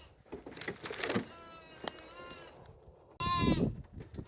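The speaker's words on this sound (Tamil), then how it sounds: "செம்மறி ஆடுகள்." Sheep bleat on a farm in Canada, a few wavering calls close by, with a louder, strained bleat near the end over some rustling.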